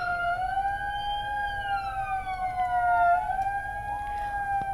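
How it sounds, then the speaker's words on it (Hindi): A wailing siren sounded as part of a Corona awareness campaign rises and falls steadily at moderate loudness, with faint background noise beneath it and no talk. "आज भी सायरन बजाया गया"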